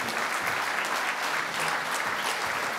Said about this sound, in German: Meine Damen und Herren, bitte einen Applaus